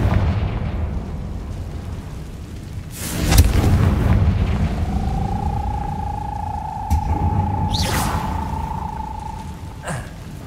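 Confringo spell explosion in the video game Hogwarts Legacy, a sharp blast near the start followed by a rumbling tail, a rising tonal whistle, and a second burst near the end over a low ambient bed.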